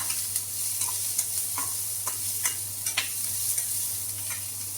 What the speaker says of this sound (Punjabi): ਅਨੀਅਨ ਦੇ ਨਾਲ ਹੀ ਪਾਵਾਂਗੇ ਕੈਰਟ ਜਿਸ ਨੂੰ ਬਿਲਕੁਲ ਛੋਟਾ ਛੋਟਾ ਚੌਪ ਕਰ ਲੈਣਾ ਤੇ ਇਸ ਨੂੰ ਹਿਲਾਉਂਦੇ ਰਹਿਣਾ